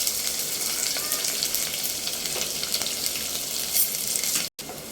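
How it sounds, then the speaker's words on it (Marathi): Onion dropped into hot oil with chilli and cumin for matka poha, a loud close sizzle and crackle with stirring scrapes, cutting off abruptly near the end. "आता आपण यात कांदा टाकूया"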